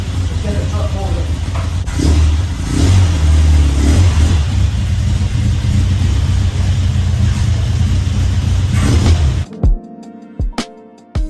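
A loud truck engine starts and revs close by for several seconds, with voices talking over it, before it cuts out leaving a few knocks.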